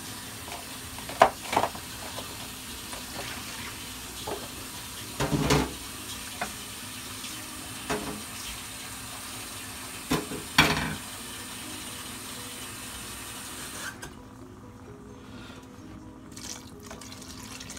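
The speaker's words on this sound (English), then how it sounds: "So I'm gonna put some water." Steady hiss of tap water running into a cooking pot in a sink, with a few clinks and knocks, before the flow shuts off near the end.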